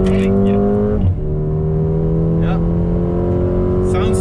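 A Mercedes-Benz A35 AMG accelerates hard along the Sepang Circuit front straight, its engine a loud, rising drone heard from inside the car, with a brief shift break near the start and a short spoken word over it.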